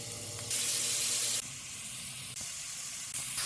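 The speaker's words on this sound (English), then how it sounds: "Now that we have finished browning our venison and our pork" Venison shoulder browning in a pan gives a steady close sizzle and hiss, with bright, hissy surges rising and falling every second or so and no voices.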